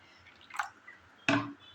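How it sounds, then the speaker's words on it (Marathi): Water poured into a mango drink: two brief wet splashes of liquid close by, the second louder and fuller, with quiet between them and no talking. "पण अजून ह्याच्यात पाणी हवं आहे ते मी घालून घेत आहे"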